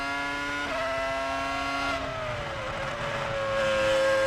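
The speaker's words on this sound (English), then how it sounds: "listen to that V10" A screaming Ferrari V10 Formula One engine from Barrichello's car at the 2000 Malaysia Grand Prix, heard onboard as a continuous high-pitched wail that shifts pitch through gear changes and braking, then climbs again as it accelerates.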